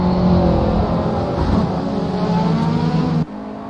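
A race car engine in a racing sim, running a Grand Prix of Indianapolis behind the safety car, picks up pace with a loud, close, steady whining drone of layered engine tones that cuts off abruptly just before the end, with no talk.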